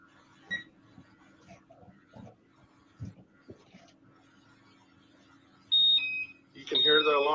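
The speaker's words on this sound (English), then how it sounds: "You can hear the alarm going off." A portable gas monitor alarm sounds during a mask test for a hazardous atmosphere, sending out sharp, loud electronic beeps in two bursts near the end after a stretch of faint handling noises.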